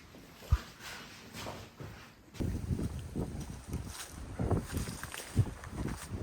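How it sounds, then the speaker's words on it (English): Wind gusting through a Sicilian olive grove, a broad rushing buffet that rises and falls and thumps against the microphone, with a few knocks and movements nearby, no voices. "today is windy, so let's go inside the stone house and let's talk inside"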